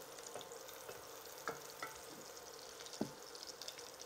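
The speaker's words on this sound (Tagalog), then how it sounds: "Gisa lang natin yung garlic and onion." Garlic and onion sautéing in a large, deep pan, giving a steady, fairly quiet sizzle with a few sharp scrapes and taps of a utensil being stirred through.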